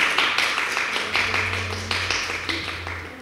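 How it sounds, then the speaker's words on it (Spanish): Scattered clapping from a university lecture audience applauding the speakers, moderately loud individual claps in an uneven rhythm over a low background hum. "Les pido por favor un aplauso para nuestros ponentes."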